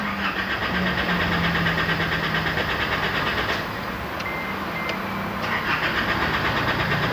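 An Isuzu D-Max engine cranks continuously without catching, a steady, loud rhythmic churn of the starter heard up close for several seconds, no voices.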